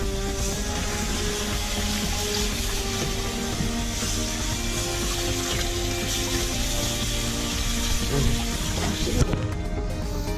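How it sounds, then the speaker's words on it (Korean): Chicken feet rinsed under a running kitchen tap, a steady close hiss and splash of water flowing over them for the whole stretch, with a brief clatter near the end. "여기다 씻어가지고 아니 이렇게 딱 씻어야지"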